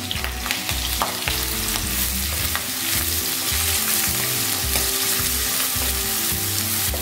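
Onions and green chillies fry with curry leaves in hot oil, giving a loud, steady sizzle with repeated stirring scrapes and clinks throughout; no one speaks.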